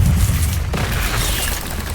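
A single sharp blast from the Confringo spell in Hogwarts Legacy cracks out over a continuous low rumble of game ambience, with no talk.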